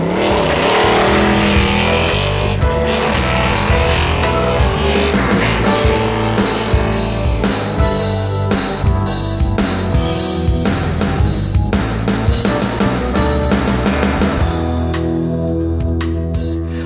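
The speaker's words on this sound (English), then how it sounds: "This run is with the Mickey Thompson tires" A drag car launches hard on Mickey Thompson DOT drag tires, its loud engine roaring and revving continuously, with gear-change dips as it pulls away down the strip.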